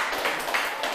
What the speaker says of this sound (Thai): ปรบมือให้เพื่อนด้วย